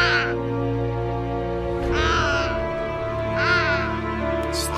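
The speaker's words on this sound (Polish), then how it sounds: "Kruki, wrony." Ravens and crows caw in the horror video game Family Curse, three harsh, drawn-out calls spaced about a second and a half apart, over a steady low droning game soundtrack.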